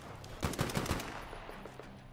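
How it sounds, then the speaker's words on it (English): Gunshots in the video game Metro Exodus: a quick burst of four sharp shots in rapid succession, followed by quieter rattling and ambient game sound. "I just shot that man right in the face"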